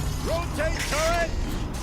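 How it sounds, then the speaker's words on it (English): A turret rotating in Horizon Zero Dawn gives off a loud mechanical whir, with gliding, rising tones in two or three sweeps over a steady rumbling background. "Rotate turret!"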